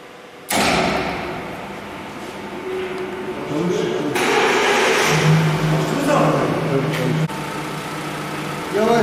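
A car sits on brake tester rollers at a vehicle inspection station, starting with a sudden loud mechanical whir that holds steady, then swells into a heavier grinding drone and cuts off briefly before resuming.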